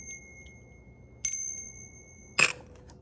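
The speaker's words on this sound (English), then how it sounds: "so here's the bell." A small ritual bell from a beginner tarot kit is rung twice, giving two bright, ringing metallic strikes about a second apart, each trailing off briefly in an otherwise quiet room.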